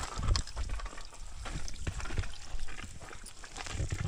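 Steady hissing spray of a rotating water sprinkler in a farm field, with irregular splashes and patters, continuous throughout, fairly close and moderately loud.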